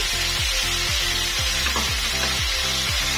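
Anchovies stir-fried in a pan with a little water, for a sautéed cassava-leaf and papaya-flower dish, give a steady close hiss and sizzle, with regular scraping strokes of a spatula throughout.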